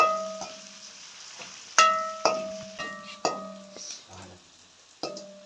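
Onions and green chillies sautéing in a pan, stirred with a metal utensil that strikes the pan in several bright, ringing clinks, each decaying slowly, with soft frying noise between them.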